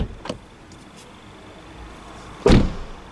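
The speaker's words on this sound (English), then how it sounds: "now I close the door" Kia Niro Hybrid car door shut gently, a single dull thud near the end after a faint earlier click, in a quiet setting.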